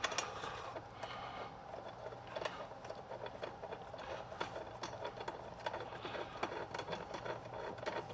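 Small mechanical whirring and clicking from fastening screws on a carbon fiber cold air intake for a BMW F90 M5, faint and steady under quiet room noise with no talking.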